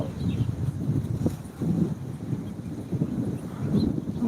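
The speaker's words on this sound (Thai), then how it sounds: "มีฝนทั้งลมนะคะ มาพร้อมกันเลยนะคะ" Wind and rain arrive together, a continuous gusty rumble buffeting close to the microphone, swelling and easing in uneven surges with no clear voices.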